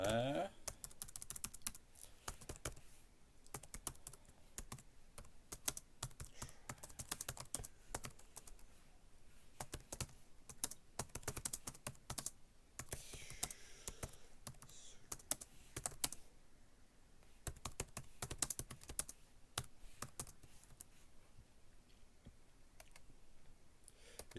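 Fast, continuous typing on a computer keyboard while writing a reply, with dense key clicks and brief pauses throughout, recorded close and fairly quiet.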